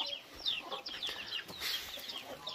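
Chickens clucking at a rural Vietnamese home, busy overlapping clucks and short squawks from several birds close by, continuous throughout with a hint of soft background noise.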